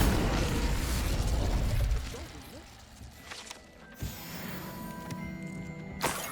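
In Hogwarts Legacy, the Incendio fire spell goes off as a loud, roaring burst that lasts about two seconds. It is followed by quieter game ambience and a couple of soft thuds.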